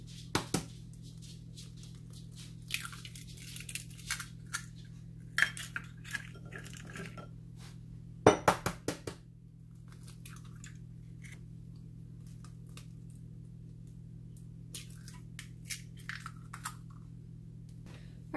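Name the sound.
cracking eggs into a bowl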